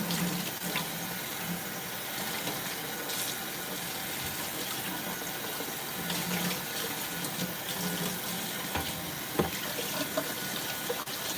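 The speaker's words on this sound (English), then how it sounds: "I just have to rinse this out." Tap water runs steadily into a sink while something is rinsed out during evening kitchen cleanup, a continuous close hiss with light clinks and no talking.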